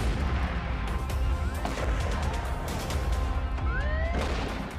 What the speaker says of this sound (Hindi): इस खतरनाक हथियार को रेल गन कहते हैं, जो महाविध्वंस की हथियार मानी जाती है।